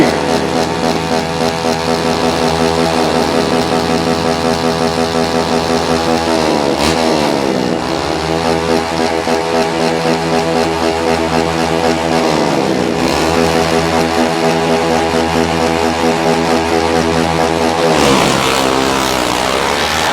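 Drag racing motorcycles launch with a wheelie in a loud, sustained engine roar, revving in rising sweeps with gear-change dips, while a commentator talks excitedly over it.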